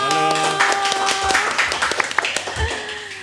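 Studio audience applause welcoming a young architect guest on a podcast, a burst of clapping that thins into scattered claps under background music and talk.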